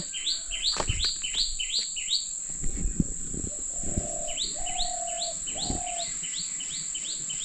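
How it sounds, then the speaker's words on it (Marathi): Low, soft cooing calls of a dove repeat a few times by a river beneath rapid high chirping of other birds and a steady insect whine. "कवडा ओरडतोय आणि इकडे एक दुसरं एक पक्षी आहे"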